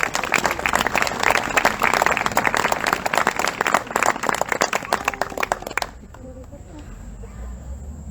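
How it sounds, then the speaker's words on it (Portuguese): A church congregation claps for the Lord, brisk dense applause at close range for several seconds that cuts off abruptly into quiet room tone with faint voices. "Pode aplaudir ao Senhor aí."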